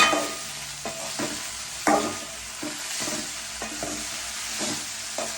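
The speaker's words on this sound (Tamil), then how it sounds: "நல்லா அடி பிடிச்சிடாம நல்லா கலந்து விடலாம்" Chutney ingredients, including coriander with stems, fry in a pan while a spatula stirs them, giving a steady sizzle broken by repeated rhythmic scraping strokes, close and without talk.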